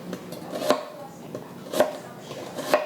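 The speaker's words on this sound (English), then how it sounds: "So you want to do is cut on an angle" A knife slices through an onion on a cutting board at an angle, giving three evenly spaced crisp chops with a faint crunch between them, close up and with no talking.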